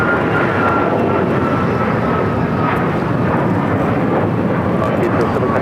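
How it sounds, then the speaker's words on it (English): An Alaska Airlines Boeing 737 MAX 9 takes off at LAX bound for Honolulu. Its engines give a loud, steady, close roar through the whole stretch. "This is Alaska Airlines 807 taking off to Honolulu on the MAX 9"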